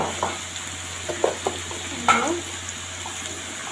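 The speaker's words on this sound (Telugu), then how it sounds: "ఆలు ఫ్రై అవుతుంది." Potatoes frying in a pan give a steady close sizzle, broken by several short scrapes and stirring knocks; no one speaks.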